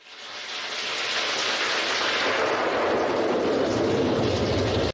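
Rain falls at night in a steady, dense hiss that swells in over the first second and holds loud and even, with no voices.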